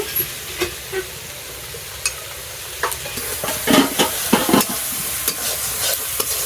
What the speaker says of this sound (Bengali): এই মশলাটা আমার কষানো হয়ে গেছে